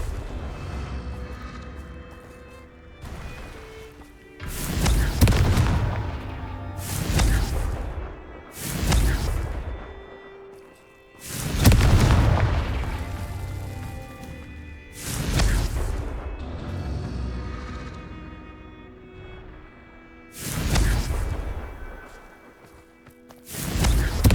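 Hogwarts Legacy Bombarda and Confringo spells blast in quick succession, each a loud booming explosion with a whooshing tail, repeating roughly every two to three seconds with brief quiet gaps between.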